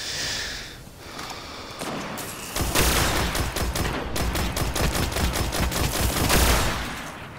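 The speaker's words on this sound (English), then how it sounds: "I love the sound the headshots make." Rapid bursts of gunfire with sharp headshot impacts in a Destiny PvP Control match, loud and dense after a quieter opening, shots crackling in quick succession with no talk.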